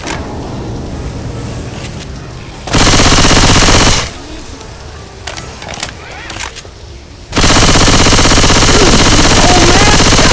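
Automatic gunfire in Left 4 Dead 2 versus mode, two loud sustained bursts of rapid shots separated by quieter game ambience with faint shouting in between.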